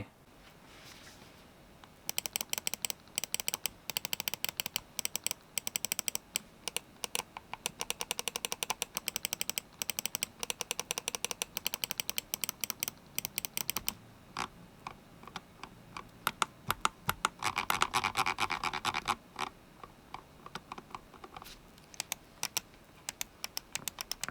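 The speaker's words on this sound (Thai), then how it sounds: "มาฟังเสียงคลิกนิดนึงนะครับว่าใช่ Blue Shell Pink Dot ไหม" A Zowie EC1-DW Glossy Edition mouse with Huano Blue Shell Pink Dot switches clicks in long fast runs of crisp, sharp, close clicks, with short pauses and a denser, louder burst near the end.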